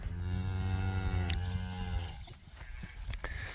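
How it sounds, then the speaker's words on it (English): Cattle on a home farm, a herd of cows left behind while others went to rented pasture, with a steady low lowing moo held for about two seconds up close, then scattered shuffling and movement noise. "these are all the cows that are staying home"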